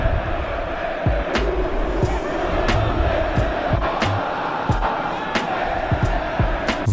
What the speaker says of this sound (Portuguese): Eu coloquei só voz da torcida, sem instrumento, bateria, nada.